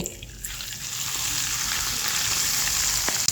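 Hot oil hits chili flakes, chili powder, soy sauce and tomato sauce for a chili sauce, giving a loud close sizzle that holds steady for a few seconds, with no speech.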